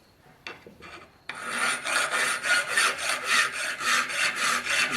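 A hand file rasps across a 10 mm stainless steel round bar, cutting two flat faces for a custom car emblem. After a few light taps, about a dozen loud, even strokes follow close up, with no voices.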